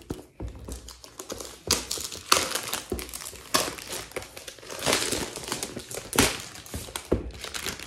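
Heavy plastic wrap on a new book crinkles and crackles as it is peeled open, in close, irregular bursts of rustling and sharp crackles with brief pauses between, and no voice over it.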